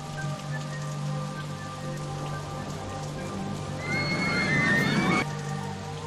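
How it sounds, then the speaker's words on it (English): Steady rain falls in the OpenRCT2 park-building game, a continuous soft hiss over a low ambient game hum with a brief brighter swirl of tones near the end. "Rain time!"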